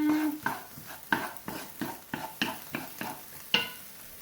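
Garlic and onions fry in a pan while a spoon stirs them in a steady rhythm of about ten scraping strokes, close and fairly quiet, with no talking.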